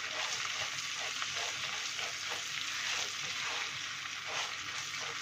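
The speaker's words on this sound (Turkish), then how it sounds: "Tereyağımız erimeye başladı. Eriştelerimizi de kavuruyoruz." Egg noodles fry and sizzle in melted butter in a pan, a steady close crackle with occasional stirring scrapes and no talk.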